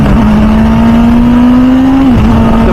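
An MV Agusta F4 Senna motorcycle engine holds a loud, steady high-pitched rev close up, dipping briefly near the end before settling again.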